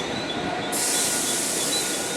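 A train at Churchgate railway station, the Mumbai terminus, makes a loud, steady rolling roar with metallic rail noise throughout and no voices.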